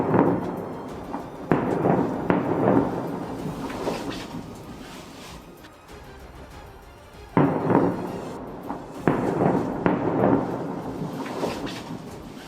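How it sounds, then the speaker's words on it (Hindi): Bomb blasts from Israeli airstrikes on Beirut boom in heavy, loud bursts, several rumbling explosions in clusters with a quieter lull between them, no voices over them. "इतने बम गिराए गए कि वहां एक साथ कई धमाके होते नजर आए"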